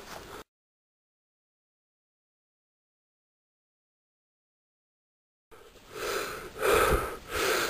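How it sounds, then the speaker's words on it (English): Heavy, labored breathing from a cyclist after riding up a steep, difficult nature trail, heard close and loud in wheezy gasps after a long stretch of silence. "apologise for heavy breathing"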